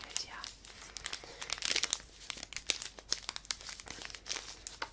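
Crinkly packaging is unwrapped up close in a hair and skin care setting, giving dense, irregular crackles and crisp rustles with a few sharper tearing bursts throughout.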